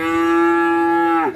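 A Limousin bull calf at a calf market in Gondanglegi, Malang, gives a single loud, close, sustained moo that holds steady for over a second before cutting off abruptly.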